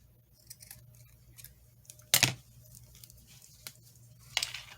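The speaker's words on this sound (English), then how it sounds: "I'm going to cut this off." Scissors cutting off a piece of fabric, one sharp close snip standing out from quiet handling rustles, with a second fainter snip near the end.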